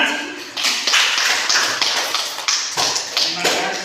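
Classroom applause from a group of students, a dense burst of many hands clapping steadily and close, with faint voices underneath.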